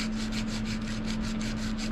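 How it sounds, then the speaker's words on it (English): Hand sanding a plastic ramrod down toward a hexagon shape: quick, regular back-and-forth rasping strokes, about four per second, close and steady with a constant low hum beneath. "sanding it a little bit."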